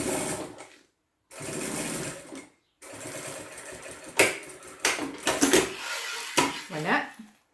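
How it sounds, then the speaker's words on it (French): A sewing machine runs in short bursts topstitching a leather wallet, steady whirring stitch runs broken by pauses, then clicks and knocks as the work is adjusted. "nous allons faire une deuxième surpiqûre ici au bout"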